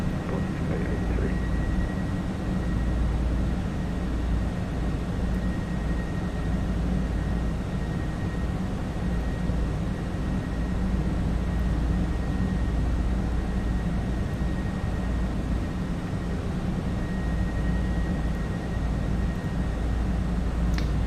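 IAE engines on an FSLabs A321 airliner in the Prepar3D flight simulator produce a steady, even roar with a thin high whine running through it. The sound is constant and unbroken, with no talking.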